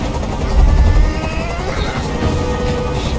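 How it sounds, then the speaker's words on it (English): A helicopter in the video game Detroit: Become Human, with a loud, close, heavy rotor thumping that swells early and then continues as a steady roaring drone. "I can't stand that noise anymore. Tell that helicopter to get out of here."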